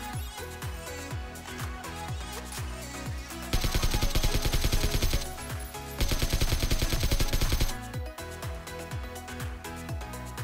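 AKM assault rifle fire in the battle royale game PUBG, loud rapid bursts of automatic shots over game background sound, with two sustained heavy bursts in the middle.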